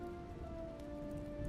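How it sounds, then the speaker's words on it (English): Steady rain pouring outside as a background ambience track, an even hiss of drops on surfaces with a faint tonal hum underneath, constant and moderately quiet. "The rain is still pouring outside"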